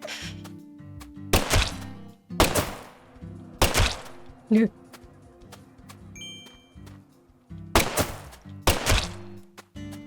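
Gunshots from rubber bullets fired at wild dogs in the video game Deadly Premonition 2, about six sharp loud cracks in irregular pairs, with a brief tonal thunk between them over a low steady game soundtrack.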